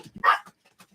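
Dogs at home give one short, close bark followed by a few faint, brief yips or whimpers.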